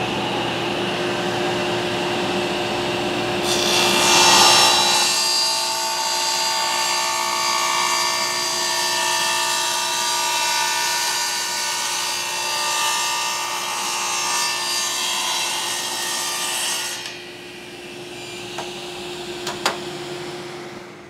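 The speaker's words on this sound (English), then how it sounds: "So I'll do that on the table saw." A table saw cuts a 9-degree bevel in wood: a motor hums steadily throughout, with a louder, bright rasping cut lasting about twelve seconds before the blade runs down to a lower hum and a few small knocks.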